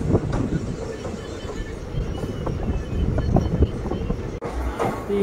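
Steady rumble and clatter aboard a running passenger train on the Narasapur–Vijayawada route, with continuous rolling noise, faint rhythmic wheel clicks and wind throughout.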